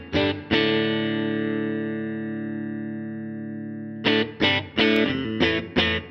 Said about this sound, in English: this is the core sound with a little bit of reverb and my basic amp